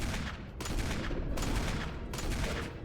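Rapid gunfire bursts in the video game Resident Evil (2002), loud, dense repeated shots in several close volleys separated by brief gaps.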